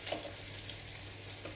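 Kyufta meatballs fry in oil in a covered pan, giving a faint, steady sizzle with a low hum underneath and no voices.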